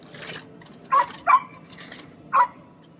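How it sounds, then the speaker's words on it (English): Three sharp dog barks, spaced apart, one pair close together and a last one after a pause, against quiet background hiss. "dog is barking again."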